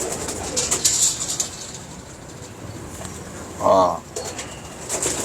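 Champion pigeons at a loft in Lahore: a brief burst of wing flapping near the middle over a steady outdoor background, with a faint coo and a short spoken word.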